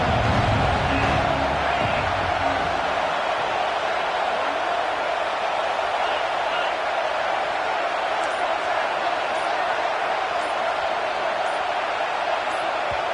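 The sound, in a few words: loud stadium crowd in a college football video game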